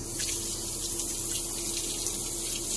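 A razor is rinsed under a running tap, giving a steady close rush of water that continues unbroken throughout.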